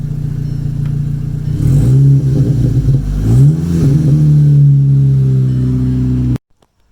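A Seat Leon Cupra Mk2 with a decat exhaust revs loudly and close, the engine climbing in two surges from idle before cutting off abruptly near the end.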